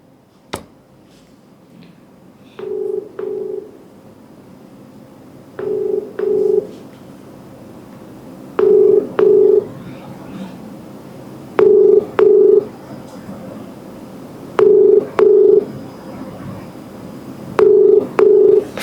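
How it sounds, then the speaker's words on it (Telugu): An outgoing phone call's ringback tone sounds six times as loud, even double-pulse rings spaced about three seconds apart, with faint clicks between them and no talking. "జస్ట్ కాల్ చేస్తున్నా"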